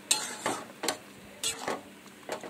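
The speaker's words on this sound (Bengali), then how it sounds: "পটলটা আমি একটু নেড়ে নিলাম" Pointed gourd curry stirred in a pan, a series of separate scraping strokes of a spoon across the pan, fairly close and moderately quiet, with gaps between each stroke and no talk.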